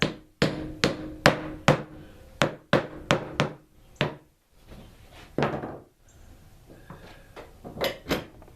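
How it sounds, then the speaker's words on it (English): A hammer taps a glued-up wood-scrap cutting board in a steady series of sharp, close knocks, about a dozen blows with short pauses between them. "Now I want to take a hammer, make sure everything is flat as it can be."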